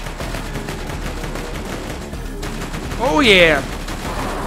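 Gunfire in Borderlands 2, rapid bursts of shots under a steady drone of game sound, with someone speaking briefly partway through.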